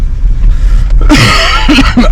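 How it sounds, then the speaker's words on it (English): Several harsh coughs sound close by, a hacking burst followed by two shorter coughs, loud against quiet outdoor background noise. "I can't stop coughing."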